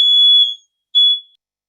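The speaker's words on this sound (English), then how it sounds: "before another smoke alarm happens" Two loud, high-pitched electronic beeps from a smoke alarm, a long tone followed by a shorter one after a brief pause, with no other sound.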